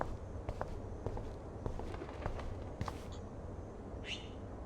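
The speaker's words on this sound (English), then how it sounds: "I'm hearing a bird." Brief bird chirps from a video game, faint and short, heard over a steady run of close footsteps.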